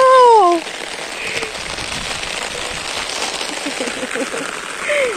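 Heavy rain in the Brazilian sertão patters steadily on a surface as a dense hiss, with a whining animal-like call at the start and another near the end.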